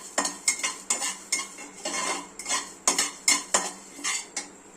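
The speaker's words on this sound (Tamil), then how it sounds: "இது எண்ணெய் ஊத்தாம அப்படியே வறுக்க போறோம்" Coriander seeds dry-roasted without oil in a pan and stirred briskly, a rapid rhythmic series of close metallic scrapes and rattling strokes, about two per second.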